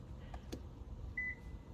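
A single short electronic beep from a Lexus key being programmed sounds faintly over a low background hum, preceded by a couple of small clicks.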